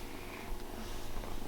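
Kittens purr close up in a home kitchen in the morning, a steady soft rumbling buzz that carries on alone without a pause.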